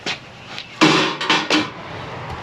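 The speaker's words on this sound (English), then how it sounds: "We're just taking our hammer here, getting it on the inside edge, and we're just going to give it some tugs here." Metal hammer tugging and prying at the fin of a Roadtrek 190 RV water heater during removal, giving three loud, close clanking knocks in quick succession followed by quieter rattling.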